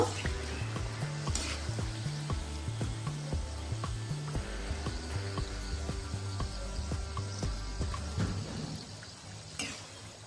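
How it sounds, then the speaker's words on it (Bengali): Aloo kachori deep-frying in hot oil, a steady close sizzle running throughout with occasional light clinks and stirring, without speech over it. "একইভাবে আমি প্রত্যেকটি ভেজে নিচ্ছি"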